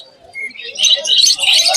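Birds chirp and tweet in a dense, bright chorus at the Naihati bird market, with rapid overlapping calls that grow louder and fuller toward the end.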